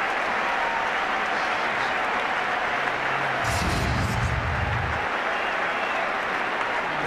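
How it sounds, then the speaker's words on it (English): A cricket crowd at an India versus Sri Lanka one-day international in Ahmedabad gives a standing ovation, dense continuous applause and cheering filling the stadium throughout, with brief commentary underneath. "a standing ovation for the young man"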